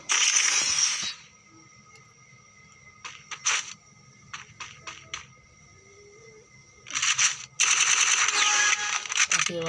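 Gunfire in the mobile battle game Free Fire, loud rapid bursts at the start and end with shorter single shots and clicks between, over a faint background hum.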